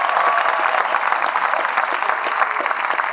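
An audience claps in a dense, steady wash of applause that holds at an even, loud level throughout, with no voices over it.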